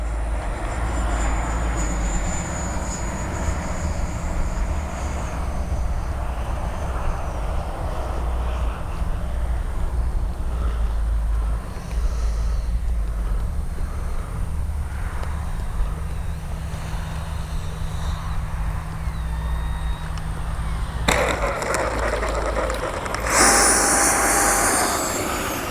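An XFLY F-35 RC model jet roars steadily on its landing approach with gear down, a continuous loud turbine-like whine that holds throughout before a brief sharper shift near the end.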